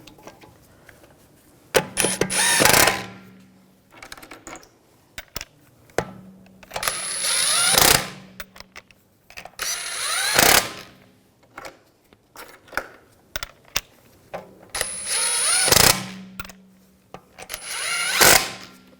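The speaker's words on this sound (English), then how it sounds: "The other one's on, snug those down." A power tool snugs down the lug bolts on the rear wheel of a 2007–2013 BMW 328i. It runs in loud, close bursts with pauses between them. Faint clicks and handling noises fill the gaps, and nobody speaks.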